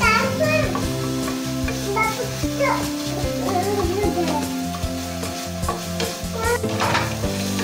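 Finely chopped green chillies sizzle and fry in a pan with semolina batter, a steady crackling hiss mixed with stirring scrapes, close and fairly loud throughout, with faint background voices.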